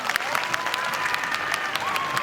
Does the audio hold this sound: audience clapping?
yes